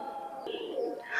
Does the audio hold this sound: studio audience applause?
no